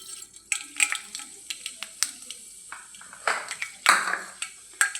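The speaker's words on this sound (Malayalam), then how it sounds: "ഈ ചൂടായ എണ്ണയിലേക്ക് നമുക്ക് കുറച്ച് കടുക് ഇട്ട് കൊടുക്കാം" Mustard seeds sizzle and pop in hot oil, with sharp crackles and pings bursting irregularly over a soft frying hiss, close and fairly clear.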